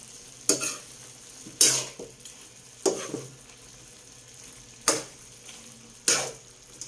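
Chicken adobo with saba bananas and sesame seeds being stirred in a sizzling pan, five sharp scraping strokes at irregular intervals over a steady soft frying hiss, close and alone.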